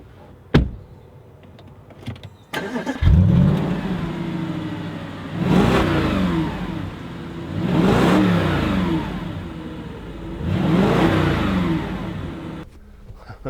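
A 2015 Audi RS4 Avant with its 4.2-litre engine revving hard as it accelerates on a drive, heard from inside the car in three rising surges after a door thud and click at the start, loud and with no talk.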